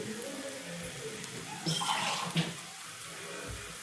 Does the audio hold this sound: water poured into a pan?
yes